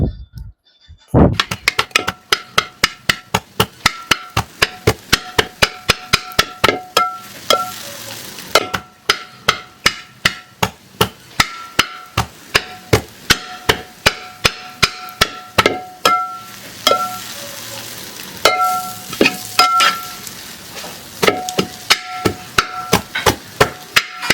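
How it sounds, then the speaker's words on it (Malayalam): Kothu parotta, made from store-bought parotta, is chopped and stirred in a hot pan. Sharp metallic strikes land in quick, uneven bursts for over twenty seconds, close and loud over a faint sizzle, with no speech. "പൊറോട്ട കൊത്തിയെടുക്കുന്ന ശബ്ദം ഞാൻ നിങ്ങളെ ഇപ്പോൾ കേൾപ്പിക്കാവുന്നതാണ്."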